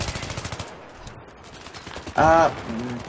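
Rapid automatic fire from an AEK-971 assault rifle in the shooter game Battlefield 3 rattles off in a fast, even burst, then fades to quieter game noise and a short tonal blip.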